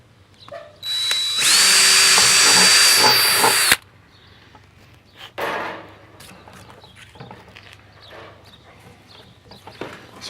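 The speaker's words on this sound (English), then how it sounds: "that's where you're going to want to drill" A power drill bores a hole in the side of a plastic bucket for a self-watering planter: a loud, steady whine lasting a couple of seconds, then a short second burst followed by scattered handling clatter.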